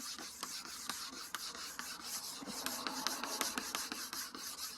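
Wet sanding with a wet sandpaper pad, steady rhythmic rasping strokes with repeated scratchy pulses, close and fairly quiet, with no talking.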